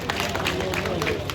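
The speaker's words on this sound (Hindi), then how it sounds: "तालियां गड़गड़ाहट के साथ।" A crowd at an outdoor political rally in India applauds, with thick, continuous clapping and cheering blended with a constant crowd roar from a large gathering.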